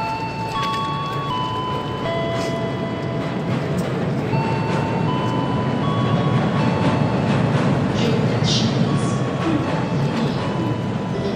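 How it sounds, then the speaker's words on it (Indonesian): A train rumbles past steadily and loudly on the Jakarta–Bandung line, with dense low rolling noise, wheel clatter and faint squeals of metal rising toward the end, no voices. "Keretanya udah mau lewat nih"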